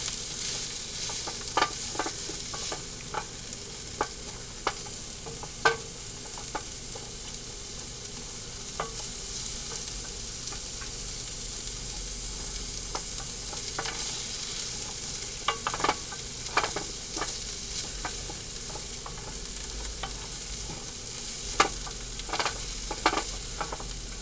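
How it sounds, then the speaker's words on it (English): Vegetables sautéing in a hot pan make a continuous, close sizzle, with scattered scraping clicks of stirring throughout and no talk. "all we're doing is sauteing this so that these will be a little bit tender"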